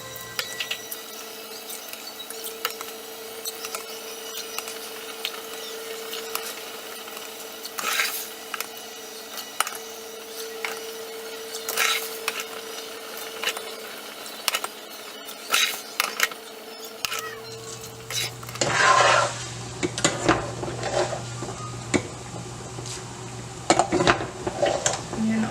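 A spoon scoops excess oil from a pan of Mexican rice, making intermittent close clinks and scrapes against the pan over a low sizzle, with the activity growing busier and louder toward the end.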